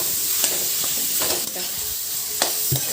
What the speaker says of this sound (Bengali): চিকেন কিমাটা দিয়ে কিন্তু ভালো করে নাড়াচাড়া করতে হবে